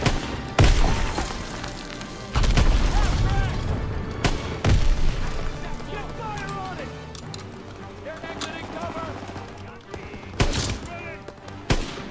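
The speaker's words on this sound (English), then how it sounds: "Let me just throw a grenade over here." Grenade throws and explosions in the Call of Duty WWII campaign, set among heavy wartime gunfire and blasts: loud booming bursts near the start, at about four seconds and again near ten seconds, with someone talking throughout.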